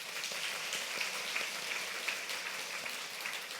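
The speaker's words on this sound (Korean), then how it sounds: "잠깐 일어나시면 우리 큰 박수로 격려하겠습니다" Congregation in a Korean church applauding a newlywed couple during Sunday worship, a steady dense patter of many hands clapping at even loudness throughout, with no talk over it.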